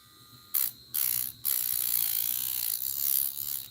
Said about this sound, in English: now that I have a lathe, I'm going to start slow and see how this handles it first